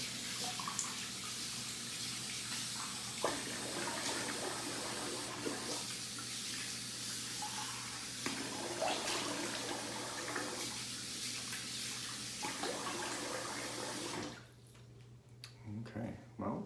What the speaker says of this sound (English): So I'm gonna rinse the face.